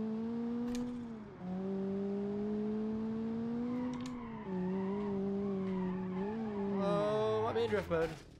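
A car in the BeamNG.drive video game drifts with long sustained tire squeal that shifts in pitch as the slide changes, loud and close, breaking into choppy screeches at the end.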